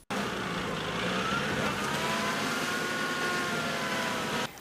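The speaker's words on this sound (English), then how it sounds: "The two health workers drive on a slippery and soggy road for about 5 kilometers" A car drives along a slippery, muddy, soggy rural road near Bufumuni, its engine running steadily and fairly loud throughout with road and tyre noise, no one speaking.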